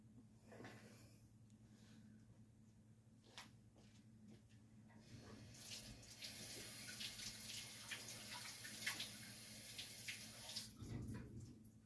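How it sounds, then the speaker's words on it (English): Tap water runs to rinse an item off during acrylic pour painting, starting quietly with a few clinks, then a steady loud faucet stream hissing for several seconds before easing off. "Alright, I'm gonna rinse this off and put right there, just a little more."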